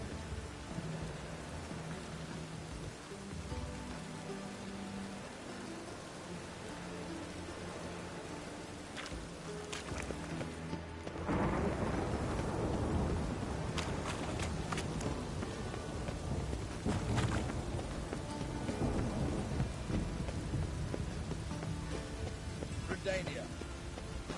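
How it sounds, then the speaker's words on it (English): Steady rain pours in The Witcher 3, joined by deep rolling thunder that swells into a heavier, louder downpour about midway. The storm wash runs continuously, with faint voices and scattered clatter underneath. "The rain will ruin it!"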